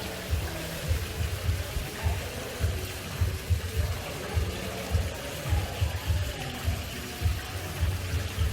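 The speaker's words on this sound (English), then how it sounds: "Got the fountains going on." Water from fountains splashes and trickles steadily at a beach bar and grill in The Gambia, with a low rhythmic pulsing beneath the continuous wash.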